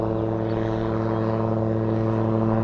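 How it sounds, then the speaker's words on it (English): A propeller airplane throttles up for takeoff, its engine a loud, steady droning hum with strong tonal harmonics, close by and alone without talk. "There it is. He's fixing to take off."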